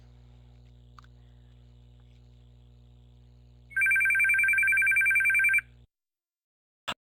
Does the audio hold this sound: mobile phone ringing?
yes